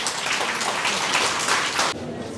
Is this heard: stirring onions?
no